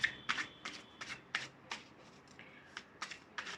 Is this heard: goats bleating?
no